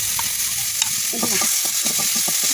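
Poppy seed paste and garlic paste hit a pan of cooked onions for a pointed gourd korma, raising a loud, close sizzle with repeated scraping stirs and spatula knocks throughout.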